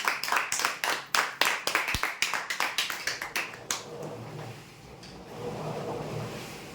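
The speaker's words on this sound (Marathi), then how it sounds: "जोरदार टाळ्या" A few people clap in quick, rhythmic bursts for prize winners at a customer lucky draw, loud and close for about four seconds before fading into quiet room noise.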